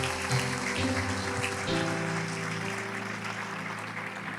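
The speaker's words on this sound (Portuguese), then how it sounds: "pode aplaudir, irmão?" Church congregation applauding during a sermon, a soft wash of scattered clapping under sustained organ or keyboard tones that shift chords partway through.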